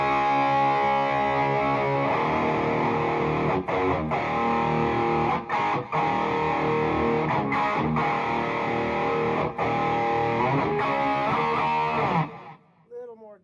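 Electric guitar played through a Wizard MTL MC II Hybrid 100W amp on channel 1 with classic hard-rock-style gain: crunchy, sustained chords with brief rhythmic breaks, loud and up close, ringing off at the end.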